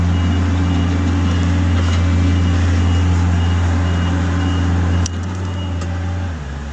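HR21D / SP64D drive motor running at full speed, giving a loud, steady hum with a constant whine that holds for several seconds. It drops abruptly near the end as the motor slows.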